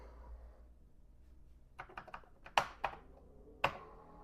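Typing on a computer keyboard to format a disk on a Commodore CBM 8050 setup: a short burst of several close, crisp key taps in uneven rhythm, the last one sharper, over a low quiet hum.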